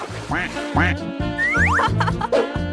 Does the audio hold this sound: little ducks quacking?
yes